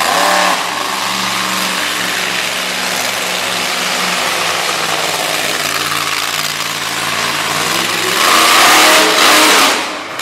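A monster truck engine roars and revs continuously as the truck circles an arena at a Delaware monster truck show, loud and close with sustained drone and a surge of throttle near the end.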